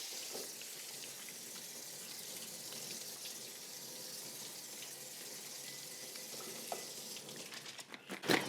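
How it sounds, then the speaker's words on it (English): Running water from a kitchen tap while onions are washed before going into a roaster pan, a steady close hiss that ends in a few clatters and splashes. "I am gonna wash these onions real quick before I put them in the roaster pan."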